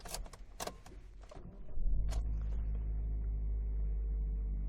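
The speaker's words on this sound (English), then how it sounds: "Let's start up the vehicle itself so you can actually see the car in action." A 2017 Suzuki Baleno hatchback starting: a few clicks and a jingle of keys, then the engine catches at about two seconds and settles into a steady, low idle rumble heard from inside the cabin.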